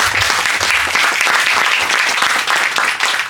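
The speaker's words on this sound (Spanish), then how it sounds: "Un aplauso." Warm applause fills a museum hall in Santiago's Casa Colorada during a book presentation, a dense and even wash of clapping from a seated audience that holds steady for a few seconds.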